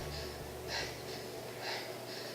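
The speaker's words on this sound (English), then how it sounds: "Panting." Heavy rhythmic panting from a Star Wars teaser trailer, with several breathy gasps in a row, close and fairly quiet over a low background hum.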